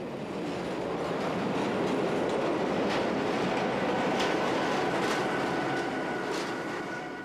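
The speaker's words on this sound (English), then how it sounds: "Nobody really seems to mind the train snaking through the main street every 15 minutes or so." Appenzellerbahn train running down the middle of the main street in Teufen, Switzerland: a steady, loud rumble of wheels and carriages, with faint rail clatter throughout and no talk.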